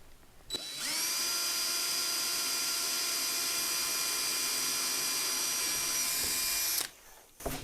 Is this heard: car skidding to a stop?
no